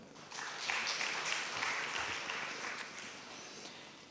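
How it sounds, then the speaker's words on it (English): Scattered applause from a conference audience at an academic event, a steady broadband patter of clapping hands lasting a few seconds at moderate, slightly distant level. "Applause."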